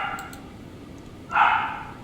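A dog barks once, a short sharp yelp at moderate distance over low background noise, with a faint earlier whimper-like sound.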